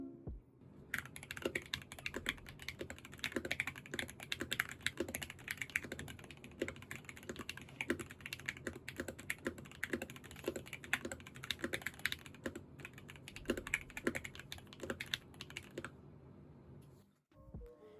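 Steady typing on a custom KBD67 Lite R2 mechanical keyboard, crisp clacky keystrokes in a continuous brisk rhythm, close up with no voices, stopping abruptly near the end.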